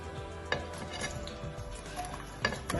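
Onions frying in melted pressed coconut oil in a pot give a soft, close sizzle beneath utensil clinks and stirring, with a few sharper taps against the pot.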